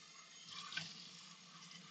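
Tap water running into a kitchen sink while a soaked thermos is rinsed out, a faint steady hiss with a brief splashy swell near the middle, close by and without speech.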